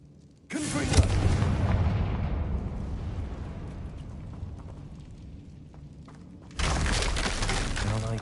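A Confringo spell explodes in Hogwarts Legacy with a sudden loud blast that rumbles and crackles for several seconds as it decays, followed by a second burst just as strong near the end.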